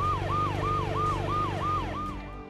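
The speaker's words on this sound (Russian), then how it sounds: "Скорая помощь! Мне срочно нужно в больницу." A wailing ambulance siren sweeps up and down in a steady repeating cycle, loud and close over a constant low hum, with no voices.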